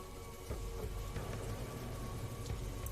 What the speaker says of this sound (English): All I heard was a sigh and rain hitting a roof.